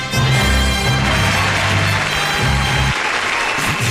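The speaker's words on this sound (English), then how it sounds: "Let's have some clapping." Loud, continuous clapping from a small group in a radio studio, sustained for several seconds with a low hum underneath.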